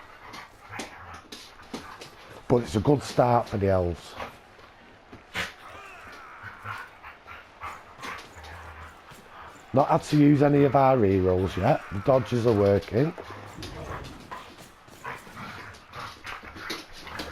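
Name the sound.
dogs whimpering and playing together in background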